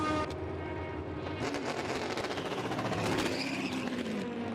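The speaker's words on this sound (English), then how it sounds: "Nothing like hearing a car move out of the pit lane." A prototype race car at the 2020 IMSA Rolex 24 at Daytona pulls out of the pit lane, its engine a loud, dense roar that swells and stays close for several seconds.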